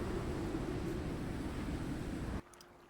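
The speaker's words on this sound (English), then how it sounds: "It's really windy outside." Strong wind blows steadily outdoors in a survival video game, a loud broadband rush with a low hum, cutting off abruptly near the end to a much quieter background.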